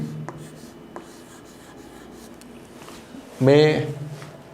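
Faint, steady scratching of words written by hand during an English grammar lesson, continuing softly in the background before a brief voice speaks near the end.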